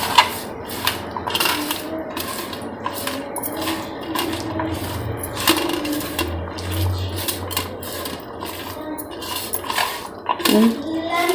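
A spoon mixes okra for crispy bhindi in a metal pan, giving a steady run of close scraping clinks and clatters with soft background noise.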